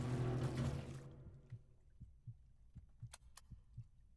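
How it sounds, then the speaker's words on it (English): Heartbeat in the video game Silent Hill: Downpour: a slow, regular, muffled thumping pulse, faint and low, following a short burst of louder noise and with a couple of thin metallic clicks. "And sure enough, I'm hearing a heartbeat."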